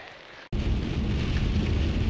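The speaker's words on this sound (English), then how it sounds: "as you can see the rain is well and truly set in" Heavy steady rain near Fox Glacier Village in New Zealand, a dense, loud hiss of rain on surfaces that cuts in abruptly after a brief quieter moment and continues unbroken.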